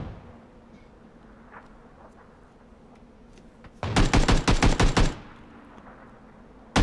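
Squads in the video game PUBG exchange gunfire, a rapid burst of about eight sharp shots over a second, fairly close, after quiet ambient game noise with a few faint distant pops.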